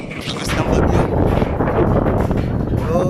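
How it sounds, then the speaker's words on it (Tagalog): Strong, stormy wind blows at the coast near Nasugbu in the Philippines, a loud, constant roar buffeting the microphone with gusty rumble throughout. "napakalakas ng hangin, hindi mo alam kung ano ba to, lakas ng bagyo"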